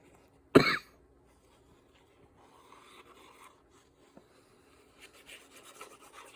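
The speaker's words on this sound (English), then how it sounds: "I feel a cough coming on, so let me grab a cough drop real quick." A single sharp cough near the start, followed by quiet shuffling and faint handling noises.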